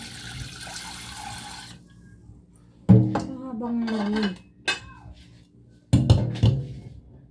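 Dishes and pots clatter and clink under running water, with bursts of scraping and knocking separated by quieter pauses, close by.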